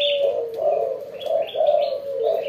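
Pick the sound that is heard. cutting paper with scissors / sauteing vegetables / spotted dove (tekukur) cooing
spotted dove (tekukur) cooing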